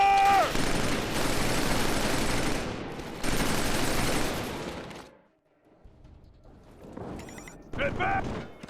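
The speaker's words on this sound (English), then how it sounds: "Covering fire." Sustained rapid gunfire from the video game Killzone 3, loud and dense for about five seconds, then a brief lull before more bursts return; game voices and effects break in near the end.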